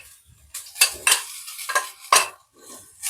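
Rice being stirred into pea masala in a pan for pulao, a spoon scraping and clinking in several close, uneven strokes.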